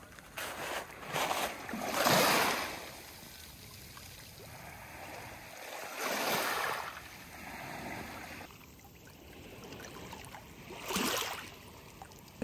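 Clear seawater lapping gently at a quiet Croatian shore in the morning, soft washes swelling and fading every few seconds, close and fairly faint, with no one talking.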